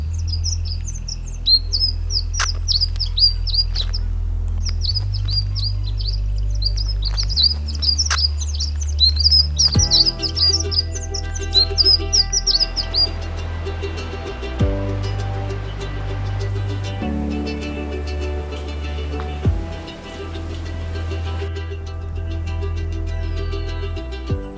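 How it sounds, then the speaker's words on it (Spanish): Moustached flowerpiercer in a cloud forest with bamboo nearby, giving high, thin twittering calls in bursts over the first half, set against a steady low hum and a faint background wash. "Estoy intentando traer cerca de donde estoy al pinchaflor de bigotes"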